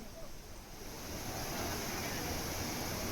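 The Neelkanth waterfall near Rishikesh pours down the mountainside, heard as a continuous broadband rushing roar. The sound is steady and close, with no other distinct sounds and no speech.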